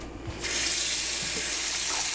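Tap water runs steadily from a faucet into a sink as a cotton yarn donut is rinsed, a close and continuous splashing rush that starts abruptly and holds.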